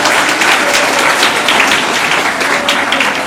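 Audience at a Chennai government law college event applauding, a dense, steady roar of many hands clapping together for the full stretch, loud and close with no pause.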